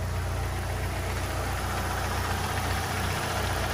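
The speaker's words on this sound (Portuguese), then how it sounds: "Deixa eu funcionar o carro." A parked car's engine idles steadily while warming up, a loud, close, even low rumble running throughout with no talking.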